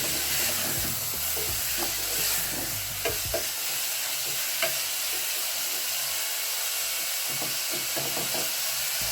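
Beef frying in a pot with a steady bright sizzle, broken by scraping and stirring knocks of a spoon; the deeper bubbling fades partway through while the hiss continues.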